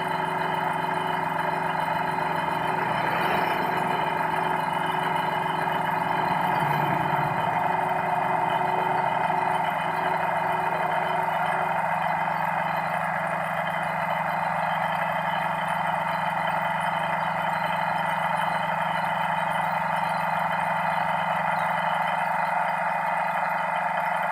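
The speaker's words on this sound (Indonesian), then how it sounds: "kita harus nyalakan dulu sampai mesinnya ini panas juga" A used air compressor runs with its motor and pump holding a loud, steady mechanical hum and drone from start to end, with no talking.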